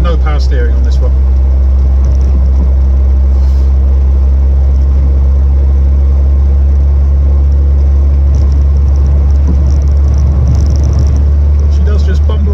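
Steady low engine drone and road rumble from inside a 1983 VW Golf GTI 1.8 with a four-speed gearbox and no power steering, driving along, with a voice talking over it.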